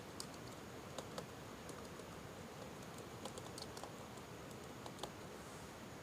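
Typing on a computer keyboard while entering accounting data: faint, quick, irregular key clicks over a steady background hiss.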